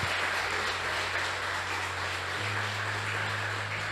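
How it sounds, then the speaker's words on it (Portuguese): A church congregation at a Sunday service applauds in praise, a dense, steady wash of many hands clapping that holds evenly throughout, with a low sustained tone underneath. "dá uma salva de palmas para Jesus"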